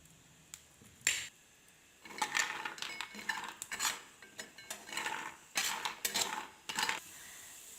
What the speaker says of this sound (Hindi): अब 1 मिनट के लिए बादाम को देसी घी में रोस्ट कर लेते हैं।